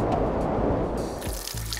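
Water runs and splashes loudly and continuously close by, with a dense rushing wash that shifts in tone partway through, heard alone without speech.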